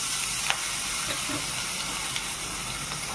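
Curry leaves, ginger, green chilli and garlic paste are sautéed in a pan for a potato and green pea samosa filling, giving a dense, steady sizzle with a couple of faint stirring taps and no speech.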